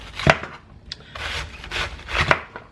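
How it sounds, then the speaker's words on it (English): Knife cutting up cabbage on a wooden board, a few separate crunchy chops spread across a short stretch, fairly close and clear with no talking. "I'm gonna go ahead and start cutting up my cabbage and get that ready to go."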